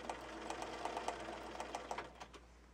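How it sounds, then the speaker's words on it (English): A sewing machine stitches a facing onto the bottom hem of a pant leg, giving a steady close whir with quick rhythmic needle pulses that runs the whole time with no talking. "So we're just going to continue to sew all the way around the bottom of the pant leg."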